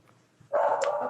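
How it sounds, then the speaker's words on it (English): A domestic dog gives a single sharp bark in the background of an otherwise quiet room during an online planning commission meeting. "excuse my dog barking in the background."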